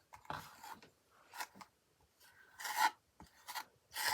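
Scraping and rubbing on a mixed media journal card to build texture, a series of short rasping strokes at an uneven pace, close and quiet.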